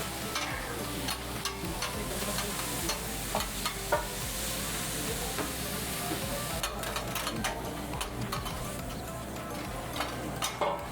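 Crab stir fry sizzling steadily in a wok at a Seattle Chinese seafood buffet, with a continuous hiss broken by scattered clinks and scrapes of stirring over a low kitchen hum.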